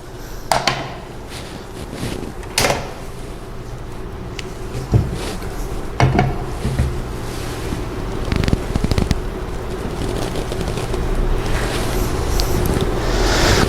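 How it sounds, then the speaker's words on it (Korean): Boiled eggs are rinsed under cold running water, a steady rushing stream that grows fuller over time, with occasional knocks and clunks of the eggs and pot, no talking. "이거를 이제 빨리 찬물에다가 헹궈 보도록 하겠습니다"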